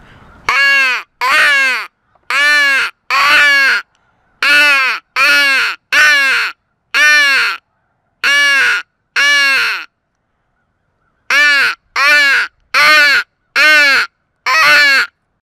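Crows cawing loudly and close in repeated runs of harsh calls, each burst two to four caws with short gaps, answering calling during a crow hunt.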